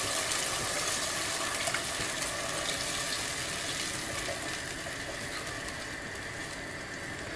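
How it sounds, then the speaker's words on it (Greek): Water pours steadily into tomato sauce in a pan, a continuous broadband rushing gush lasting several seconds at even volume that softens slightly toward the end. "ένα ποτήρι του νερού θα πάρει."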